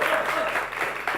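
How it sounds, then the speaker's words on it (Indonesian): Audience applause for Cek Bagus and Cek Ayu, the 2019 cultural ambassadors, at a live culture show, a steady dense clapping that carries on for the whole short moment with some voice mixed in. "Oh tepuk tangan Cek Bagus Cek Ayu."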